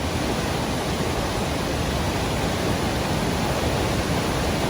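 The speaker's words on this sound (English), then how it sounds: "This is a hell of a waterfall." Pistyll Rhaeadr, a 73-metre waterfall in Wales with a natural rock arch partway down, roars in a loud, steady, broadband rush of falling water that fills the scene with no voices heard.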